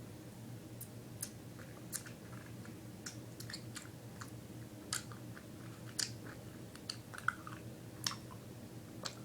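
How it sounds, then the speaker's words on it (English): Close-up chewing of a Nik-L-Nip wax bottle candy, with soft irregular clicks and squishy bites repeating over a low background hum, no talking. "drain out the liquid and chew on the half of the bottle for a few seconds"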